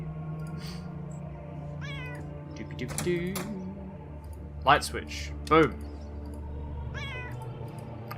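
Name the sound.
cat meowing in the video game UnderRail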